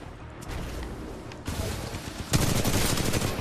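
Rapid bursts of hip-fired automatic gunfire in the video game Titanfall 2, loud and close, with dense overlapping shots that swell into a heavier barrage toward the end.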